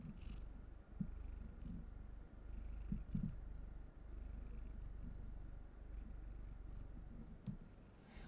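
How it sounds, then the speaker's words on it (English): A domestic cat purrs steadily while held, a continuous low rumbling throb that swells and eases in soft rhythmic cycles, close and fairly quiet, with no talking. "Purr?"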